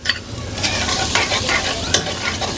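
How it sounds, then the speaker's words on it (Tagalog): Garlic sautéing in a hot pan for a milkfish steak dish, a close, loud continuous sizzle with crackling pops and occasional stirring scrapes, no talking. "Unang gagawin po natin, magigisa ng bawang."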